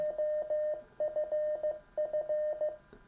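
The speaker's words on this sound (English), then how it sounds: "the radio will tell us that in Morse code" An MTR3B Mountain Topper radio sends Morse code beeps to announce it is switching off, a steady single-pitched tone keyed in short and long pulses, clear and alone.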